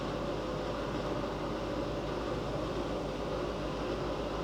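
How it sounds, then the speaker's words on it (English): A steady, loud mechanical whir with a broad hiss from a dated, noisy bathroom extractor fan running continuously nearby in a Las Vegas hotel room. "straight away you can hear a noisy extractor"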